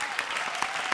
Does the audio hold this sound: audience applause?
yes